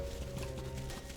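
Horse hooves clip-clopping at a steady trot in Final Fantasy XIV, soft and continuous under steady game music.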